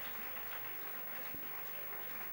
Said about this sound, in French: on applaudit encore très fort pour la chorale Saint-Pierre